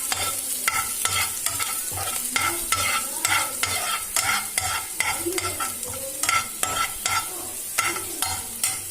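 Finely chopped spring onions fry in oil in a pan, a steady close sizzle broken by regular scraping stirs of a utensil at an even rhythm.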